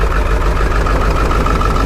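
Ford 7.3 Powerstroke diesel idling roughly at the exhaust, a loud, steady low rumble with an uneven, choppy pulse, heard close up with no talking.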